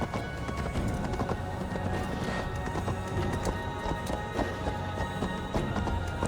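Steady clip-clopping of horse hooves continues throughout, with a few snorts and whinnies over a busy background from the video game Assassin's Creed Valhalla.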